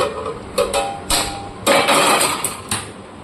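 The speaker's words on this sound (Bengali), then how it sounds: "ঢাকনাটা সরিয়ে একবার চেক করে নিচ্ছি।" A metal lid comes off a pan of steamed semolina dhokla with several close, bright clanks and scrapes in quick succession, loud against a quiet room.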